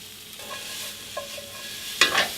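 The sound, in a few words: mushrooms with salt and sugar caramelizing in a hot pan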